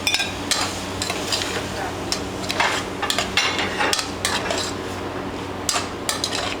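Utensil scraping and clinking against a pan while conch and shrimp are stirred together, irregular close metallic taps over a low steady background hum.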